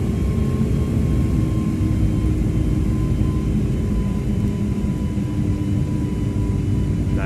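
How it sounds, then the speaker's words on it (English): Airbus A321neo engines roar in a flight simulator as thrust is reduced, producing a loud, steady, dense rumble with a faint tonal whine that holds throughout, with no speech. "Listen to thrust reduction here."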